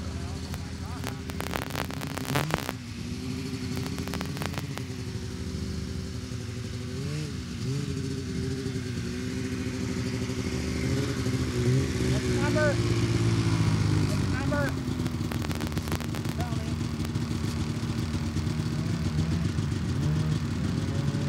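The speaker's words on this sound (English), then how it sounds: "Jordan Gibson's on the line right now in a Polaris Indy." A Polaris Indy snowmobile engine idles and revs on the starting line at the Kincardine Grand Prix snowmobile race, a loud, continuous drone with rising and falling pitch, while an announcer talks over it.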